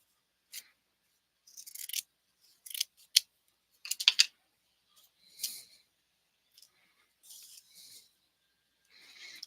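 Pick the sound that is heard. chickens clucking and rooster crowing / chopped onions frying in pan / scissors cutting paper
scissors cutting paper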